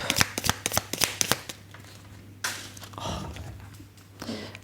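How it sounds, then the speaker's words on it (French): Tarot cards being gathered up by hand after scattering, a quick run of close, crisp card flicks and slaps followed by softer shuffling and sliding sounds, with no talking. "Les cartes ont sauté. Alors, je les récupère"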